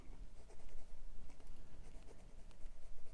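A 1947 Parker 51 Vacumatic fountain pen with a wet 14 karat gold medium nib scratches softly across paper in continuous close strokes, with faint steady room noise and no voices.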